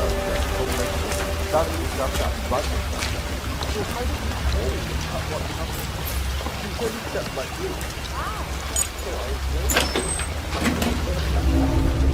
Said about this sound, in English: Rain, nothing but rain.